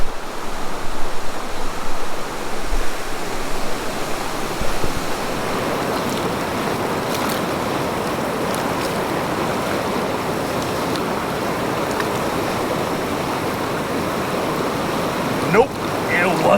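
River water rushes in a continuous, fairly loud broadband wash as someone pans for gold at the bank. The flow stays steady throughout, with a few small splashes and knocks near the start and end.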